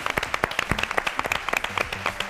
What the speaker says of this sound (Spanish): Un aplauso muy grande